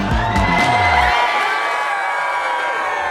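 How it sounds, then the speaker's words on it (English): Wedding guests at a lakeside humanistic ceremony cheer and whoop after the cake is cut, a loud, sustained crowd roar with shouting voices throughout. "Okay, now big applause!"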